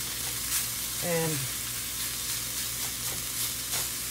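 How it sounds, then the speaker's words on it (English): Ham frying in a pan, a steady sizzle that runs the whole time at moderate loudness, with a brief voice partway through. "Sizzle, sizzle. We're cooking up our ham."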